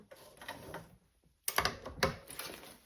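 A sewing machine stitches across the bottom of a blanket backpack, running in short mechanical bursts with a brief pause between them, close and fairly loud.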